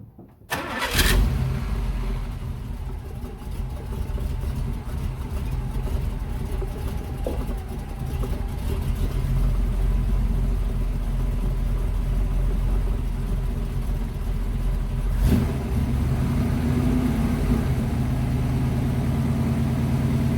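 A 1984 Chevy K10 pickup's engine starts with a sharp catch near the beginning, then idles steadily and loudly up close for the rest of the stretch, a low rumbling drone with a brief blip partway through.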